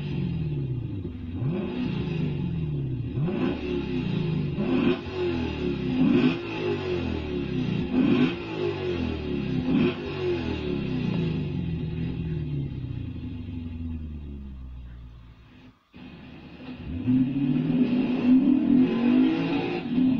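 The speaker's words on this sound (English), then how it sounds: "The random car is a Lexus RCF." The engine of a Lexus RC F sports car revs hard through repeated rising pulls with a deep rumble, then drops off briefly and climbs again in another loud acceleration. There is no talk over it.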